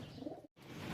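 Racing pigeons coo softly at a loading area during basketing, a low, faint burble that breaks off briefly and then resumes.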